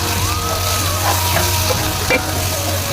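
Dried chillies frying with banana flower paste in a pan, giving a steady sizzle with stirring scrapes over a constant low hum, close and fairly loud throughout.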